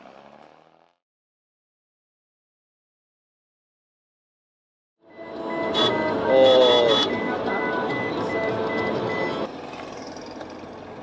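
At a busy truck stop on the Iran–Pakistan border route, a brief distant sound gives way to silence, then a loud vehicle noise with tonal beeping and engine rumble starts midway and continues to the end.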